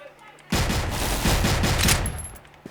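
Rapid bursts of gunfire and sniper rifle shots ring out in a video game clan war on the Port map, a dense, loud volley lasting a couple of seconds after a quiet start.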